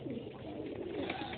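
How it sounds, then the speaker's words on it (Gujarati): Pigeons, mostly white, cooing together in a pigeon house inside a cattle shelter holding over 2000 birds; a steady, dense murmur of overlapping low coos, close and continuous. "આ પોજરાપોળની અંદર 2000થી વધારે પારેવા છે"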